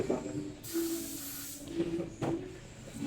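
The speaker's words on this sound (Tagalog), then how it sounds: "Binubuga na po ng mga gear oil yung singit-singit." Pressurized gear oil hisses out in bursts from a spray nozzle under a van's chassis, close and fairly quiet, with short pauses between the blasts.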